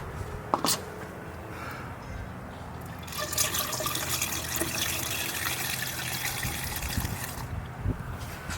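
Water pours steadily into an Aqua Tank on a 5th Gen Toyota 4Runner, a continuous splashing rush that grows stronger midway, with a couple of small knocks early on.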